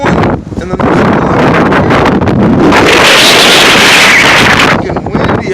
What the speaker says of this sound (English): Fucking windy out there.